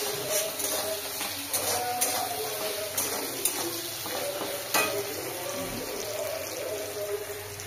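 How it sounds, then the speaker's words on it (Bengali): Onions and spices frying in a pan on a home stove, a steady close sizzle with occasional stirring scrapes and clinks throughout. "পেঁয়াজগুলো ভাজা ভাজা হয়ে এসছে।"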